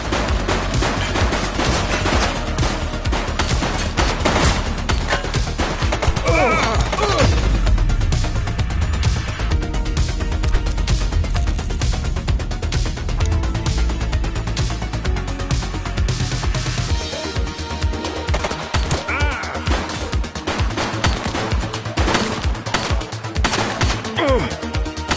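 Sustained rapid gunfire from a shooter in the police video game The Precinct, loud and dense bursts layered with music and game sound, with a voice calling out over it.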